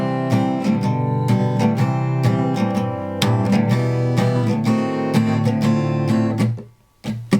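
Acoustic guitar strummed in C with a steady pattern of two downstrokes and an upstroke, full and close for about seven seconds before briefly cutting out and coming back in; no voice.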